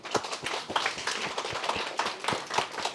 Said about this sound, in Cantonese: 俾啲掌聲佢。